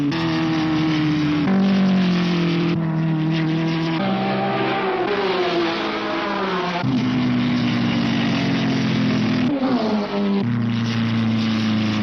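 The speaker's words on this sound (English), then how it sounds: "the new circuit has had its first introduction to motor noise, oil, fumes, and hot rubber" Racing cars from a 1960s feature race at a new New Zealand motor circuit, including an English-built Brabham Ford, rev and roar loudly and continuously, engines rising and falling in pitch as they accelerate, with no talk.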